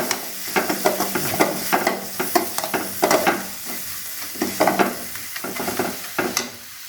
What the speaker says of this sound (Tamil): எல்லாத்தையும் சேர்த்து நல்லா வதக்கிக்கிறோம்.